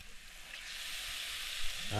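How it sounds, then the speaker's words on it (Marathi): Marinated prawns hit hot masala oil on a village wood-fired stove, raising a loud, steady sizzle that builds and holds throughout, with a faint clatter near the end. "आता आपण कोळंबी टाकून घेऊ आपण मॅरिनेट केलेली कोळंबी मस्तपैकी छान अशी ॲड करूया"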